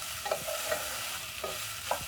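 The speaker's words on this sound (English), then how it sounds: "Then I'm going to use my spatula and stir in my onion," A spatula stirs chopped onion into meat searing in hot oil, giving a steady sizzle with scraping strokes at irregular intervals, close and alone.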